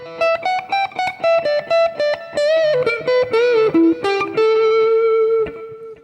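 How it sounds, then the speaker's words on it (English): A blues lead on electric guitar runs through a Mooer GE150 Pro multi-effects unit with delay and reverb: a quick run of picked notes and bends, then a long sustained note ringing out into its echo tail. "can hear it's got a nice delay on it and a nice reverb."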